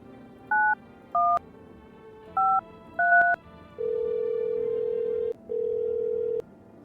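Video game phone keypad dialing: four short paired-tone beeps spaced unevenly, followed by two long steady ringback-like tones, clear and alone with no talking.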